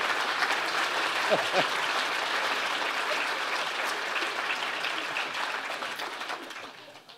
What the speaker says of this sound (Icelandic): Ég held við ættum eiginlega að klappa fyrir mér